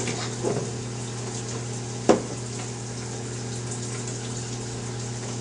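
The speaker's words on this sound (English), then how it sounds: "now I'm covered in hair, so we gotta rinse that off" A shower runs steadily while shaved hair is rinsed off the body: a constant rushing spray and hum, with one brief splashy burst partway through and no talking.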